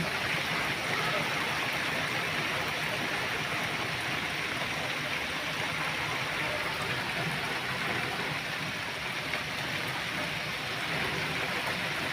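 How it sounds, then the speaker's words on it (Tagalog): Heavy, unbroken rain pours down over rice fields turned to floodwater in a rural Philippine village, a dense, steady roar of water with no letup, loud and close throughout. "Hanggang ngayon wala pa rin tigil yung pagbuhos ng ulan."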